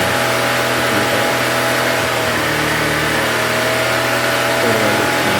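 A Honda EB1400X portable generator with a freshly cleaned carburettor, running loud and close as a steady, buzzing engine drone that holds an even pitch throughout with slight wavering.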